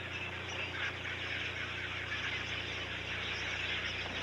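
A flock of chestnut weavers gives a dense, steady wash of chattering calls, moderately loud and continuous throughout, with no speech.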